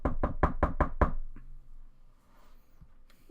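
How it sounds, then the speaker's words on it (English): Six sharp knocks on a wooden wagon door in quick, even succession, close and loud, then quiet room tone with faint movement. "Knock on the wagon door first."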